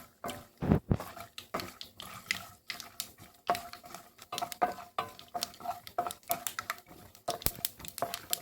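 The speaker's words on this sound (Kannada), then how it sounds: "ಇದನ್ನು ಸ್ವಲ್ಪ ಫ್ರೈ ಆಗೋವರೆಗೆ ಈ ರೀತಿ ಹುರ್ಕೋತಾ ಇದ್ದೀನಿ" Peanuts fry in a pan for lemon rice while a spoon stirs them, making faint, irregular clicks, scrapes and light sizzling patter close by.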